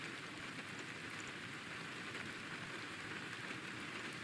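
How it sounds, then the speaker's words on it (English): Rain ambience plays as a study backdrop, a steady hiss of raindrops hitting a surface. It is even and constant throughout, soft and distant, with no voices. "There we go. There's my rain."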